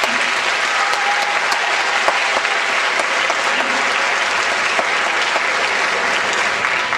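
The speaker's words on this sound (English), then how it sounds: "So let's please give this wonderful support team a round of applause." Sustained audience applause at a 2005 high school graduation ceremony, loud and dense, a large crowd clapping continuously in a big hall with scattered sharper claps throughout and no letup.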